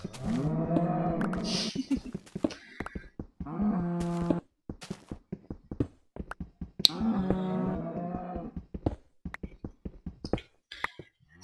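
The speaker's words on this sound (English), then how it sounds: "Ah, yes. Cows." Cows in the video game Minecraft moo several times, drawn-out lowing calls in separate groups, mixed with light tapping clicks and footsteps from play.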